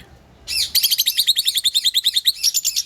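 Rapid, shrill chirping from a pair of lovebirds close by, a fast run of high squeaky calls repeating in a steady rhythm.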